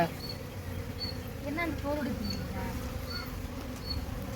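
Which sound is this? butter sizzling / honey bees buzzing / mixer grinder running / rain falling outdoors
honey bees buzzing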